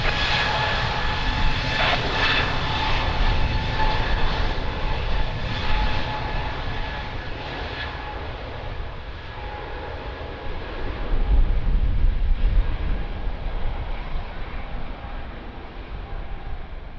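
An Airbus A320neo departs Lisbon Airport, its engines a loud, steady roar that swells and holds over many seconds with no voices.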